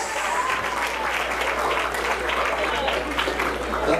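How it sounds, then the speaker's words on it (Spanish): Congregation applauding during a church wedding ceremony, dense continuous clapping with light voices beneath and a low steady hum underneath. "Un aplauso a Cristo Jesús."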